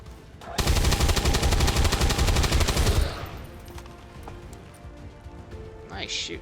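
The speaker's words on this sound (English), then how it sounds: "Nice shooting, Tex." Rapid automatic gunfire in the video game XCOM 2 rattles loudly for about two and a half seconds, then cuts off into quieter game ambience with a brief high-pitched blip near the end.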